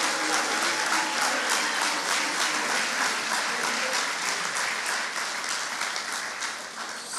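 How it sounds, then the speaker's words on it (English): Sustained audience applause at a high-school awards ceremony, a thick, even wash of many hands clapping that holds steady for the full seven seconds and fades slightly toward the end, with no voices heard. "let's give them a big round of applause"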